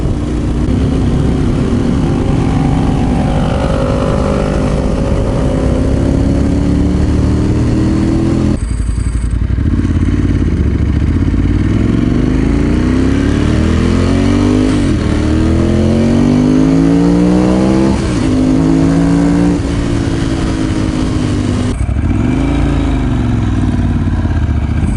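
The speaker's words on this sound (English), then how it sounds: "Gotta love that R1" A Yamaha R1 motorcycle engine revs loud and close, its pitch climbing and falling in repeated sweeps as it accelerates and shifts, with a harsh continuous roar throughout.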